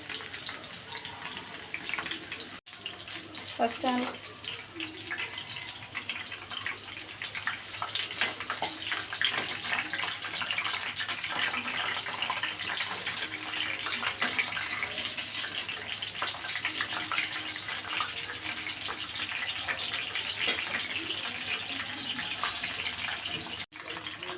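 Chicken pieces sizzle in hot oil in a home kitchen pan as they are stirred and turned over, a steady hissing fry that runs continuously at close range.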